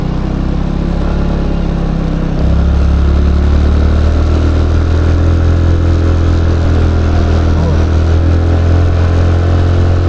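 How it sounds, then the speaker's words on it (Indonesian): A motorcycle engine runs just behind the speaker beside a roadside stall near the Cangar forest gate, a loud, steady low drone that deepens and grows heavier after a couple of seconds and holds on alone. "Ini di belakang aku ini ada motor."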